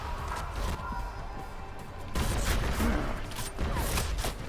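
Gunfire in the video game Deus Ex: Mankind Divided, a dense barrage of sharp shots and crashing impacts that grows louder in the second half, with a voice briefly heard underneath.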